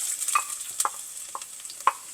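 Chopped ginger and garlic fry in hot oil in a clay pot on a gas stove, giving a light sizzle broken by several sharp clicks of stirring and scraping.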